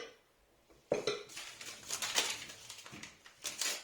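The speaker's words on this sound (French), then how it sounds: "on va commencer par mettre les œufs dans le saladier. On va ajouter le sucre." Eggs and sugar going into a mixing bowl while making fluffy pancakes, heard as close clinks and knocks of kitchenware against the bowl in a quick irregular series, with no talk.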